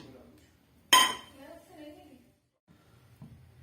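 A frying pan lands on a stove with one sharp metallic clank, followed by a faint ringing tail and a softer knock, while someone speaks quietly around it.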